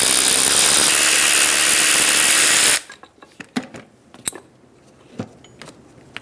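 A loud, steady whir from a power tool with a socket, spinning out brake caliper bolts on a 2010–2014 Subaru Outback, cuts off abruptly and gives way to scattered clinks of metal parts and tools.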